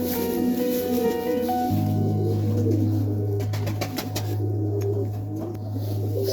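Serbian highflyer pigeons in their loft on a cold winter morning, giving steady, close, low cooing that runs throughout with no talk over it.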